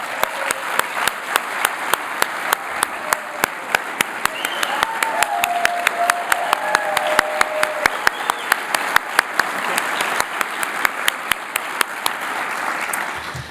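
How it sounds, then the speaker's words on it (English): Sustained applause from a conference audience at an annual professional gathering, dense and steady with sharp individual claps standing out, holding at full strength for over thirteen seconds. "One more round of applause, please."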